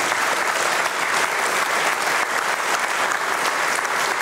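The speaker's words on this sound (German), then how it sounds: "Der Applaus ist freundlich" Studio audience applause on a German TV talk show, thick and continuous clapping from many hands that stays loud and even throughout, with no voices on top.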